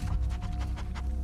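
Dog panting in The Last of Us Part II, a quick series of rhythmic breathy huffs close by over a low rumbling game soundtrack.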